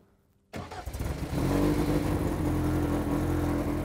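A BAC Mono sports car engine fires up after near silence, then settles into a loud, steady, rumbling idle with a few blips of revving up close.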